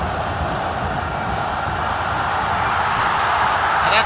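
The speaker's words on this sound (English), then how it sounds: "What a massive crowd has turned up here today." Large stadium crowd at a Malaysia versus Indonesia football match in Bukit Jalil National Stadium, Kuala Lumpur, a steady loud roar and murmur of thousands of fans throughout, with a brief sharp burst near the end.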